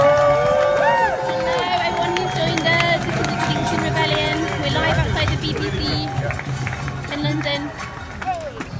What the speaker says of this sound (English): can we get a big round of applause for Angela?